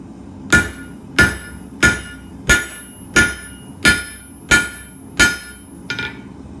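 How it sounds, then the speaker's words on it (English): A hammer strikes hot H-13 tool steel on an anvil during forging, nine ringing metallic blows in a steady rhythm about two thirds of a second apart, loud and close, the last one softer. "we're just going to be doing half on, half off blows, rotating 90 degrees, forging in a square taper to start with"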